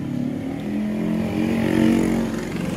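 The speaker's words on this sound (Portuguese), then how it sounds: "Olha essa moça vindo, olha a motinha dela." A small motorcycle passing along a busy Bangkok street, its low engine drone building steadily and peaking as it draws near, with steady traffic rumble behind.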